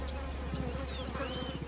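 Flies buzzing in a dense, steady drone close by, in the African wild during an outbreak that followed drought and heavy rain, with no speech over it.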